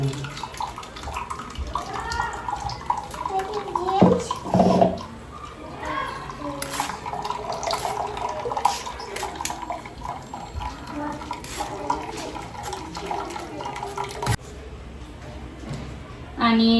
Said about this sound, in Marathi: चाळणीने गाळून घ्यायची.